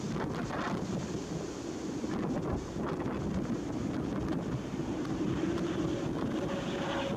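A windy afternoon at Arlanda airport brings strong, steady wind buffeting the microphone, a dense roaring rush with small gusty surges and no clear pauses.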